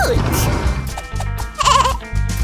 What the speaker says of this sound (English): We're gonna go feed Baby Goat